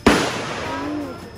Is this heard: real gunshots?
yes